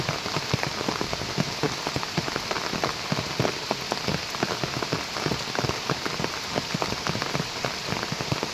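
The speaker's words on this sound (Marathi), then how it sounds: "आमच्या हळद लावायला पाऊस पण आला बघा." Steady rain patters onto a Konkan turmeric farm field, a dense continuous hiss of countless drops with scattered sharper close impacts, no voices.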